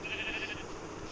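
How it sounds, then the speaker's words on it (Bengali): A single sheep gives one short, fairly faint bleat that fades within about half a second, leaving low background noise and no speech. "ভেড়াটা মনে হয় পালিয়েছে, দেখছি ভেড়াটাকে।"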